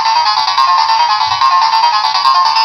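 A bright electronic melody from a Kaleidomoon Scope World toy wand plays continuously and loudly, steady beeping tones close to the listener with no voices.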